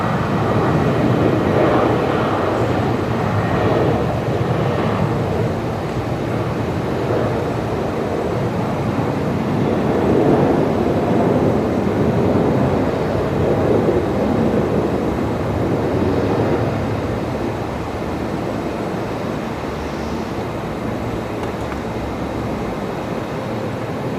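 A Velocity airliner landing at Brisbane Airport on a night with storms, heard as a broad, sustained jet roar that swells and slowly fades, steady and fairly loud throughout.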